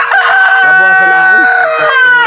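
A rooster crows loudly and close, one long drawn-out call with a wavering tail, while a person speaks briefly in Tagalog.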